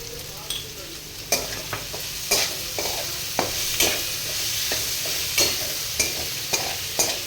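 Hakka noodles are tossed and stirred in a hot sizzling pan after salt goes in, a steady fry punctuated by regular sharp scrapes and knocks of the utensil against the pan, close and loud.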